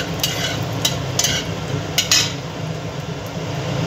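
Whole garam masala spices frying in oil in a pan, a steady low sizzle broken by several quick stirring scrapes and light clinks of a utensil against the pan, close and fairly loud, with no talking.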